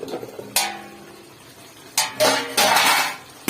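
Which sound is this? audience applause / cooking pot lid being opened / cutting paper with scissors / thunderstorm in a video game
cooking pot lid being opened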